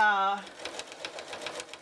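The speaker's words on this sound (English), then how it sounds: "feeding through the mechanism of the sewing machine at an even pace" A sewing machine with a walking foot stitches through a quilt, a rapid even mechanical whir and clatter that follows a spoken voice cutting off at the start.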